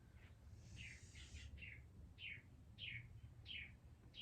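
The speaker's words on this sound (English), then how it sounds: "Oh, I'm hearing birds." Birds chirping in a repeated series of short, bright calls, fairly close, over a low steady background rumble.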